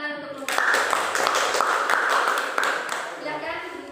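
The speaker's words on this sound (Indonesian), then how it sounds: "Tepuk tangan untuk kelompok." A classroom group applauds, with a burst of clapping that starts suddenly, holds steady for a few seconds and then fades. It is fairly close and moderately loud.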